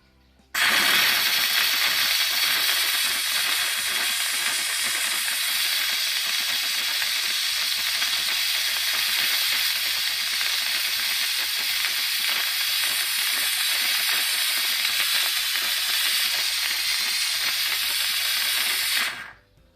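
A McCulloch MC1385 steam cleaner working on tile grout gives a loud, steady close-up hiss with some sputtering, starting abruptly and running nearly twenty seconds before cutting off.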